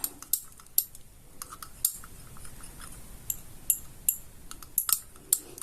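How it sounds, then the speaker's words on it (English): A utensil stirring homemade coffee paint, quiet scraping with a run of sharp clicks and taps against a container, irregular and close. "Alright, so let's stir once again."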